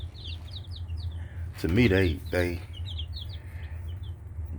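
Young chicks of mixed breeds (Rhode Island Red, Australorp, Black Sex Link and Easter Egger) cheep and cluck in a steady scatter of high, soft calls, while someone talks briefly over them.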